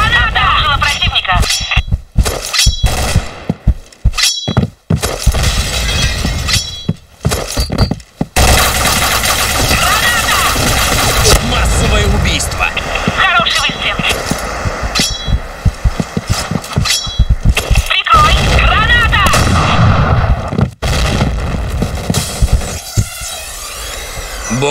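Dense video game gunfire with grenade blasts, in a competitive shooter round with bomb objectives, loud near rapid bursts and booms packed almost continuously, mixed with in-game noise and shouted voices.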